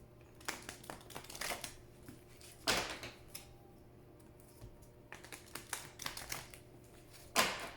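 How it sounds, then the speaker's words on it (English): Cards riffle and snap in short bursts, with quiet gaps between shuffles and a few soft taps, close and fairly quiet. "as I shuffle the cards"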